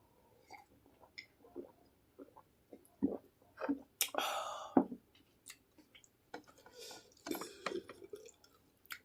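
Water drips and splashes quietly while fish are washed by hand, with scattered irregular drops and small splashes close by and no talking.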